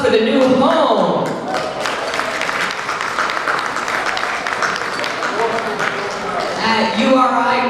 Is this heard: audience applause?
yes